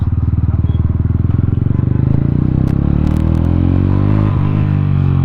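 A Mahindra Mojo motorcycle engine revs hard while riding, with a loud, close exhaust pulse that climbs steadily in pitch through the gears.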